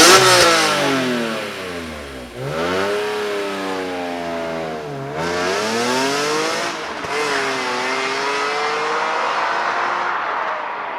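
A BMW E46 M3 engine revs hard, rising and falling in several long sweeps, loud and close, with a brief lift-off between pulls and no talk over it.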